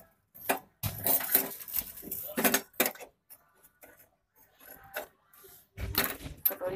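Cooked chicken handi mixture being moved into a small bowl after the gas is turned off, heard as scattered clinks and scrapes of utensil against cookware with short pauses between them.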